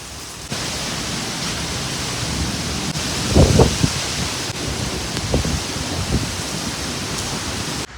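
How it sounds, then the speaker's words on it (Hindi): Heavy storm rain with strong wind outdoors: a steady, dense wash of broadband noise runs the whole time, with a few louder gusts or splashes around the middle and no talk. "अभी बस तूफ़ानी बारिश ही हो रही है, हवाएं तेज़ चल रही हैं"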